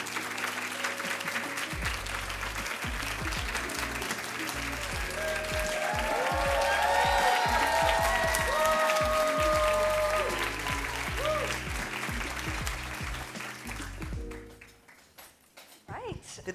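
A conference audience applauding and cheering, a long sustained wave of dense clapping with whoops and voices that swells midway, then fades out near the end.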